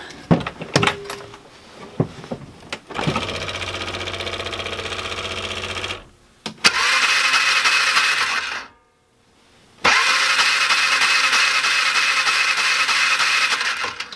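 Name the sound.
Polaris Ranger engine cranking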